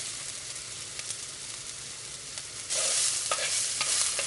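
Onion and garlic soften in a pan with a steady fry and stir, a soft sizzle that grows noticeably louder partway through, with no voices.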